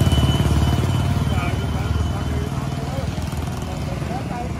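Tractor engine chugging along on the way to the village, a close, loud, rhythmic low-pitched throb that eases slightly in level partway through and carries on steadily to the end.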